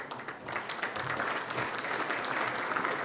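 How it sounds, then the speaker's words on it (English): Audience applause at an awards ceremony, a sustained wash of many hands clapping at moderate volume throughout, fairly even with no voices over it. "While we're applauding"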